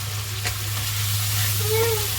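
Carrot and radish sweet-and-sour pickle sizzling steadily in a pan while being stirred, a continuous close frying hiss with a low hum beneath and occasional scraping; no talking.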